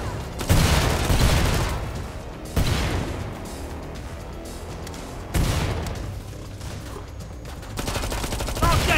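Dense gunfire and heavy booming explosions from the video game Killing Floor 2, with sustained bursts and several sharp loud blasts recurring across the stretch, no talk over it.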